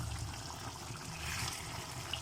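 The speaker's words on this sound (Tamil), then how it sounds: "நான் 1 கிளாஸ் அளவு வாட்டர் ஊற்றுறேன்" About a glass of water poured into a partly cooked Andhra chilli chicken gravy, a continuous close splashing trickle with a steady level throughout.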